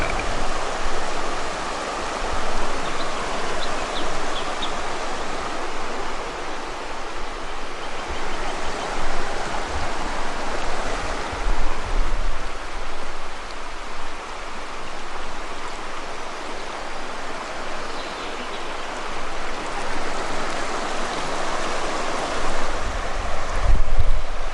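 A river flows steadily beside a campsite in the Victorian High Country, its constant broadband rush close and unbroken for the whole stretch, with some wind buffeting the microphone and no voices.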